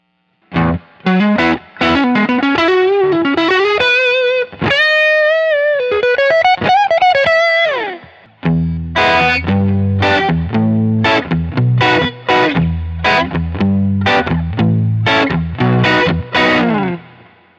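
An electric guitar played through a Fender Hot Rod amp on its overdrive channel, loud distorted single-note melodic phrases and sustained notes, then a run of choppy driven chords, close and alone.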